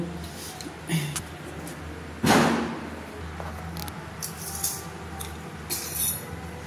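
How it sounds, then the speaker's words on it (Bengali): Cardamom pods and sand-roasted, peeled almonds are crushed for a simai dessert, giving a few close knocks and dull thuds with one heavy pounding hit, scattered among light clinks of kitchen utensils. "আর এলাচ দুটো আমি একটু থেতো করে নেব"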